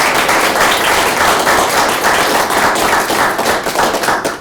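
A room of people at a library board meeting applauds, dense, loud and close clapping that holds steady for several seconds before tapering off at the end.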